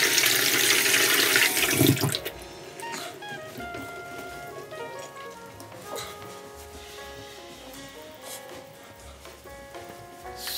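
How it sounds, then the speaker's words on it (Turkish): A tap runs loudly as hands and face are washed, the water gushing for about two seconds and then shutting off, leaving a softer tonal background. "Şimdi elimi yüzümü yıkıyorum."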